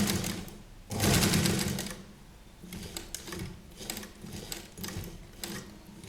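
A sewing machine stitches piping along the edge of a child's kurta for a Patiala dress, running in short bursts of rapid mechanical chatter with one long loud run near the start and quieter pauses between.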